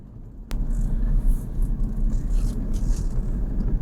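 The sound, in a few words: vehicle noise, brakes while driving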